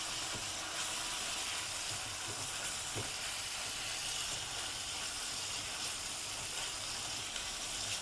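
Spice paste with tomato, turmeric, chilli powder and salt sautéing in a pan, giving a steady, even hissing sizzle close by with a few faint spatula taps, no voices.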